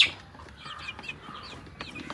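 Farm chickens, including Brahma, Aseel and native breeds, give soft, scattered clucks at moderate distance against a quiet outdoor background, with a few brief sharper calls.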